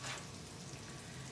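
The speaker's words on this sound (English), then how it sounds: "That nice sizzle of frying food." Eggplant slices frying in olive oil in a pan give a steady, close crackling sizzle with a dense spitting hiss throughout, and no voices.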